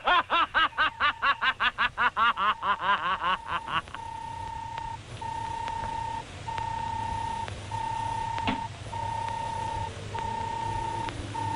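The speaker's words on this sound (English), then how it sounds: "Can you turn off its beeping?" Steady electronic beeps repeat at an even pace, evenly spaced tones over a low hum, following a burst of rhythmic chuckling sounds.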